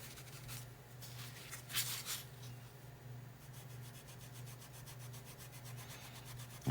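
Rubbing back and forth on a painted window insert, a soft scratchy friction with a few louder strokes early, then a run of quick even strokes, close and without speech.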